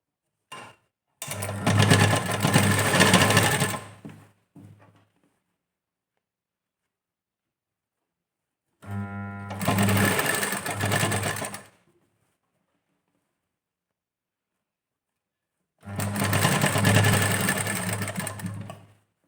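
A sewing machine stitches a curved seam on a princess-cut blouse in three separate bursts, each a steady, close, loud mechanical whir lasting a few seconds, with silent pauses between and no talk.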